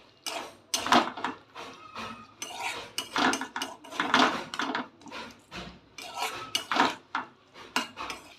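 A spoon stirs jackfruit curry with Kashmiri chilli powder in a pot, giving repeated rhythmic scraping and knocking strokes against the metal, close and steady with no talking.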